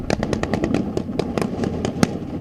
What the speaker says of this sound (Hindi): मेरे बगल में बिल्कुल एक टैंक है जो फायरिंग जिसने शुरू कर दी है